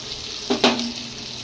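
Ginger paste hits a hot pan of frying chicken and tomato, giving a sudden short sizzle burst that fades into a low hiss.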